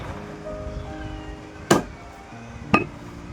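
A knife cuts raw mango for pickle with two sharp, distinct chops spaced about a second apart, close and fairly loud. A low, steady room hum lies underneath, and no one speaks.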